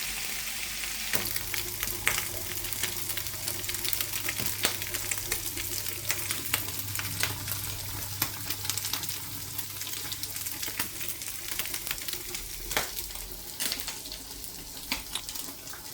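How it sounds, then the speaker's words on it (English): Minced pork fries in a pan until golden brown, giving a steady, close sizzle with occasional crackles and faint scraping, and no talking. "We're just going to fry it until it's golden brown."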